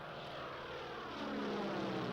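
A vintage 700-horsepower aluminium propeller aircraft drones steadily, its engine note rising slightly as if climbing or diving, heard at a distance without talk.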